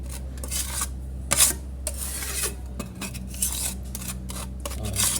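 Thinned plaster mix being stirred in a container for smoothing a plaster ceiling finish, with intermittent scraping and rubbing strokes, fairly close and moderately loud over a steady low background hum.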